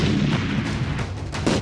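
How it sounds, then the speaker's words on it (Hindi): Explosions from cross-border shelling along the India-Pakistan border, heard as a dense, continuous rumble of loud booms and blasts across the whole short stretch with no one speaking. "पहले इन धमाकों को सुनिए।"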